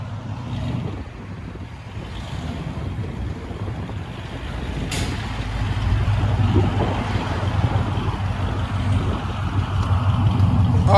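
A 1998 Chevy K1500 Silverado with true dual exhaust, long tube headers and straight pipes rumbles steadily up close, a deep loud droning idle that swells a little louder partway through, with no talk.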